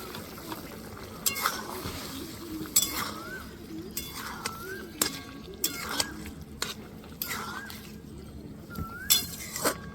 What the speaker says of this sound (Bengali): এবার ভালো করে নাড়া দিয়ে নিব